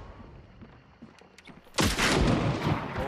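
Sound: gunfire in the video game Hunt: Showdown

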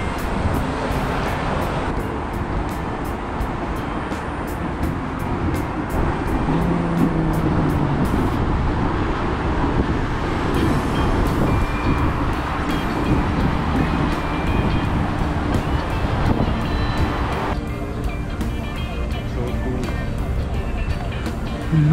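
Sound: train approaching in Osaka

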